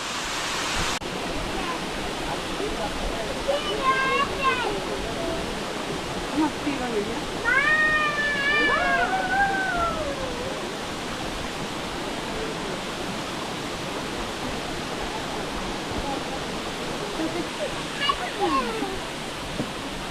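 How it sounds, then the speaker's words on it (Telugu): A waterfall's steady rushing roar fills the air throughout, with voices talking now and then over the constant wash of falling water, at Katika waterfall near Araku, India. "ఇది వాటర్ ఫాల్."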